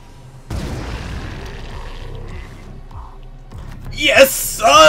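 Rocket launcher explosions in the Phoenix Point video game: two sharp, loud blasts burst out one after another near the end, following a stretch of someone talking over low game background.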